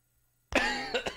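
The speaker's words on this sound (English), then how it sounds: "it's that smoker's cough" A harsh, rough smoker's cough bursts out after silence, followed by two shorter hacking coughs, close and fairly loud.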